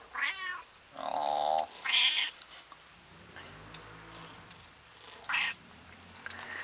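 Kitten meows are played back as recorded sounds, several short, high mewing bursts spaced a few seconds apart at moderate volume, with a person making a brief remark.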